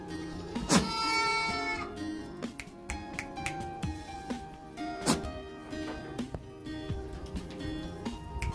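Goat bleats at a goat farm, one loud cry near the start among snapping clicks and farmyard clatter, with further faint calls and knocks through the rest.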